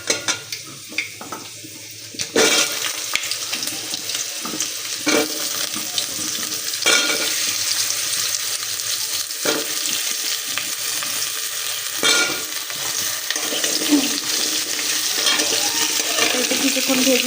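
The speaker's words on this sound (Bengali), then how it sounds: "কিছুক্ষণ ভেজে নেব" Fenugreek seeds tempering in hot oil in a pan, crackling and sizzling steadily throughout, with occasional sharper pops and stirring scrapes, close and moderately loud.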